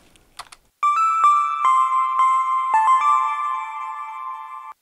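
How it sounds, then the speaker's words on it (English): A bright, buzzy bit-crushed wavetable synth lead holds sustained notes with sharp, gritty attacks, playing a short melodic line on its own after a brief faint noise. "this one has some bit crushing and it's using some different wavetables"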